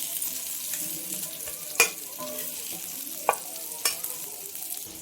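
Masala fish frying on a hot tawa, beach style, with a steady close sizzle and a few sharp spatula scrapes and taps as pieces are turned; no talk.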